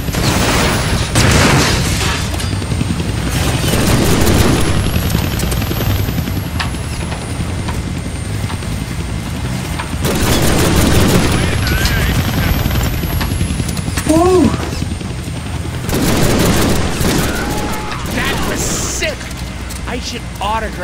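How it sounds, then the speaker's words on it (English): Helicopter rotor drone and repeated gunfire bursts in the Deadpool video game, loud and continuous with a swelling engine whine, under frequent game dialogue and talk. "I can't kill that chopper with my guns."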